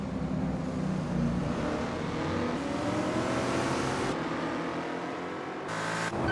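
Lola T70 MkII Spyder race cars racing at Kyalami in a racing video game, engines droning loudly and continuously with shifting pitch as the cars run together, no voices.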